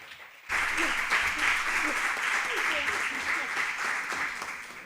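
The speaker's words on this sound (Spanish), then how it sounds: "Fina, un aplauso para Fina." Applause at a data-protection conference in Barcelona starts abruptly and continues as a broad, steady crowd clapping, with faint voices beneath it.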